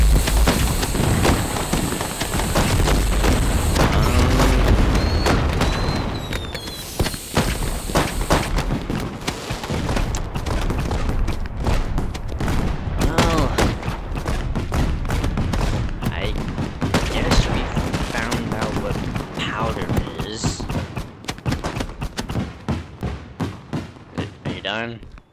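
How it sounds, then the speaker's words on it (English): In the Fireworks Mania video game, a fireworks store packed with powder goes up in a long, loud barrage of cracking bangs, rapid pops and thuds, dense at first and thinning slightly over time. "I guess I just scorched a fireworks store with a bunch of powder"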